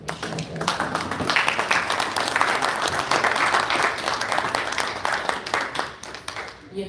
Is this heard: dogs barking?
no